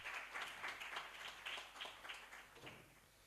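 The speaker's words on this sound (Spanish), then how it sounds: "Un fuerte aplauso una vez más para él." A conference audience at an international congress on Jesuit missions applauds in a dense, continuous wash of clapping that fades slightly toward the end, faint and distant-sounding with no talk over it.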